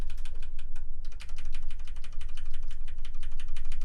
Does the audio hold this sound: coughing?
no